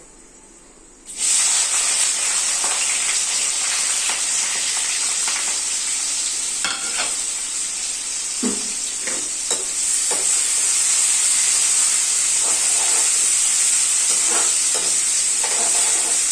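Onions hit hot oil for a chicken gravy and break into a loud, steady sizzle that holds for the whole stretch, with faint stirring scrapes underneath and no voices.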